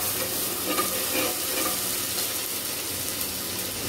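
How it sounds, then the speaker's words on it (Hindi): Garlic paste cooking in a pot of dal, giving a continuous soft sizzle and bubbling with faint stirring, steady and close with no speech. "यानी कि दाल में लहसुन का पेस्ट डाल दिया मैंने।"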